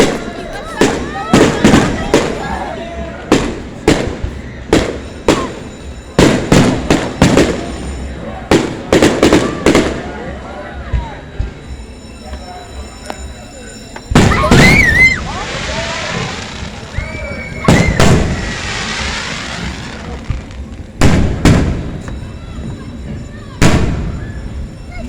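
Fireworks burst over Coney Island in a string of loud, sharp explosions, some in quick clusters and others spaced apart, with crackling tails between them and people talking and exclaiming nearby.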